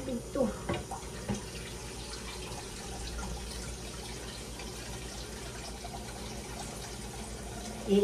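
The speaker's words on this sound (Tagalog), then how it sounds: "Lagyan ko muna ng tubig to." Water from a tap runs into a container in a home kitchen, a steady, fairly faint splashing and trickling with a few clinks near the start and a louder knock at the end.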